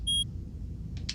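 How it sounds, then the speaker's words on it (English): A short electronic beep from the Phoenix Wright video game, a bright tonal blip near the start of the clip, followed by faint soft noises over low background hum. "Beep."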